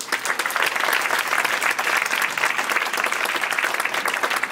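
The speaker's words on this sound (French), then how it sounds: "11 courts-métrages, on les applaudit déjà." An audience at an evening short-film festival applauds the eleven films in competition, a thick, even wash of many hands clapping continuously at a steady volume with no speech.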